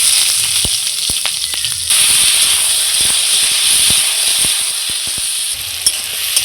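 Vegetables sizzle and hiss steadily in hot mustard oil with panch phoron, a loud, continuous frying sound with occasional stirring clicks and scrapes.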